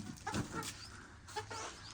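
Young chickens in a Pakistani village, grown but still lacking red combs, give short nearby clucks and chirps in a brief burst of under two seconds.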